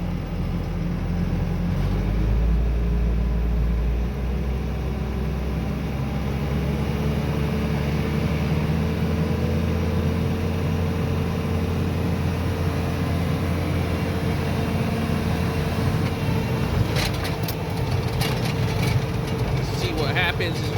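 A Bobcat T590 skid steer's diesel engine idles steadily at about 1300 RPM with a low, constant rumble and hum close to the microphone. A few sharp clanks sound near the end, and someone talks over the engine.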